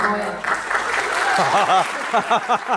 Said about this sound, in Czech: Buďte opatrný s tím potleskem